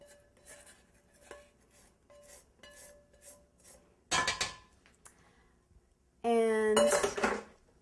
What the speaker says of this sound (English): use a spatula to get it all in, and just sort of plop it down there